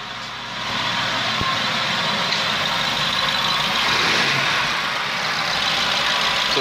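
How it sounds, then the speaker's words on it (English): A 2011 BMW 750i with a 4.4L twin turbo V8 runs at a steady idle, a continuous smooth engine hum heard close and alone with no talking. "Let's hear the engine run."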